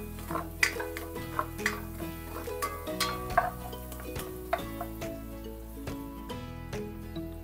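Garlic and onion sautéing in a pan, with light sizzling and scattered stirring scrapes and clicks over a steady musical bed.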